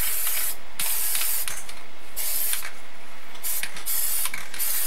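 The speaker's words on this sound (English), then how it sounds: "So I'm just hitting this with a little matte spray paint" Matte spray paint hisses from an aerosol can onto an art journal page in several loud, close bursts separated by brief silences.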